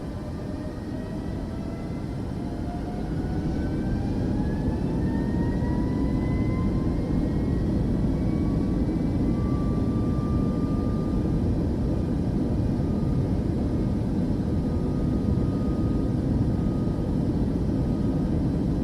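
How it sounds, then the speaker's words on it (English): An airliner taking off in Microsoft Flight Simulator 2024: a loud, steady jet roar with engine whine rising in pitch as it spools up, continuous throughout with no voices. "Dear passengers, prepare for takeoff."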